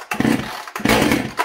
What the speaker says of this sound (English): This is a good saw